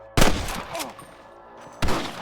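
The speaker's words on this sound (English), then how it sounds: "I can hear more gunshots." Two sharp, loud gunshot blasts in the video game Red Dead Redemption, about a second and a half apart, each followed by a rumbling echo, with scattered lighter crackles between them.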